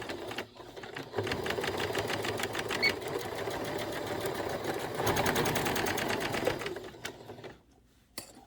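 A sewing machine stitching a cross stitch piece onto a quilted piece, its needle clattering in a fast steady whir up close, running continuously before slowing and stopping near the end.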